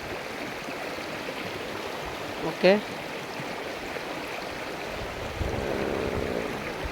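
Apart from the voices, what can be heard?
waterfall water flowing down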